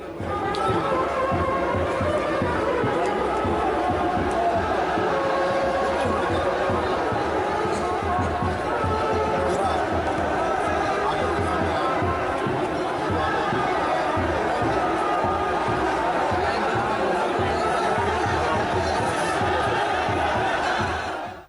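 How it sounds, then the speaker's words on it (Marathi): A dense, steady crowd murmurs and chatters at the Shantadurga Kunkalikarin temple fair procession. Many overlapping voices blend into a loud, continuous babble that lasts throughout. "मिरवणुकेक देवीच्या दर्शनाक हजारांनी लोक जमतात।"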